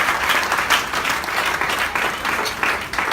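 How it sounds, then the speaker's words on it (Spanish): Church congregation applauding during a Spanish-language sermon, a steady dense wash of clapping filling the room for the whole stretch, no voices over it. "Otro aplauso para el Señor Jesús en este momento."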